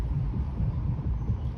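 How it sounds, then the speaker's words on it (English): A Toronto subway Line 2 train rumbles underground beneath Bloor Street, a steady low throbbing drone felt as much as heard, continuous and muffled with no voices over it. "I can hear the Line 2 train underneath me."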